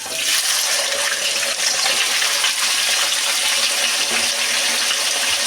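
Taro pieces fry in hot oil, producing a loud, dense, continuous hiss and crackle close at hand with no pauses and no talking.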